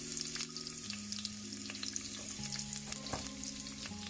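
Onions fry in olive oil in a pan, making a continuous, close crackle with sharp spits and occasional stirring, and nobody speaks.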